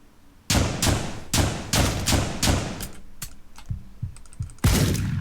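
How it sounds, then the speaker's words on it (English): Shotgun blasts in the video game Deadbolt: a string of sharp, loud booms fired in quick, irregular succession with softer clicks and thuds between them, no talking. "He shotgunned me."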